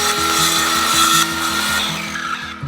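Cordless drill driving a screw into cement board, a loud, close, continuous whirring buzz with a slight pitch wobble as the screw bites, tapering off at the end, no talking.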